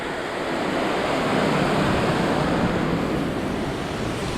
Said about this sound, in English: That's the creek.